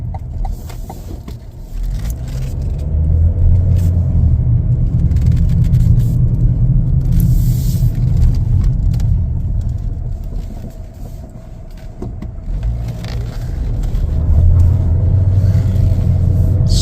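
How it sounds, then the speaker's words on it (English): A 2026 Chevrolet Equinox LT accelerates, heard from inside the cabin as a steady low engine and road rumble that swells, eases off briefly, then builds again, with no talking. "Really nice acceleration on this one."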